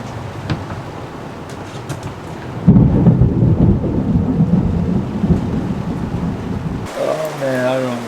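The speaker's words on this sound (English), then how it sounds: "The thunder and lightning. That was loud." A loud rolling thunder rumble breaks in and sustains over steady rain while sailing off Sicily, Italy, then fades as a brief tonal sound appears near the end.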